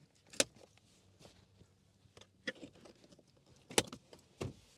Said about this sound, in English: Split fold the rear bench, you just pull these tabs.